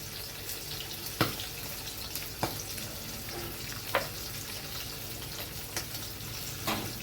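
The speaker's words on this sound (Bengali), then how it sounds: "মাছগুলো অন্য পিঠ ভাজা হচ্ছে" Fish fry in a pan for a mango fish curry, a steady low sizzle running throughout with occasional sharp clinks and scrapes of a utensil, no voices.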